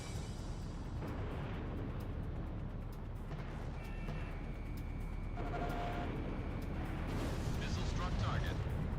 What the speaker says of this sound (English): Missile struck target.